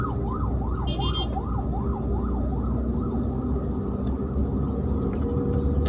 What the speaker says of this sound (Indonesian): Ambulan lagi.